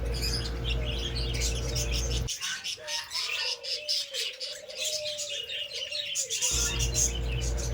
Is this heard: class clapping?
no